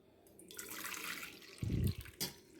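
A short, soft rush of water being strained off boiled brinjal, trickling and splashing briefly before a final small splash, quiet and close.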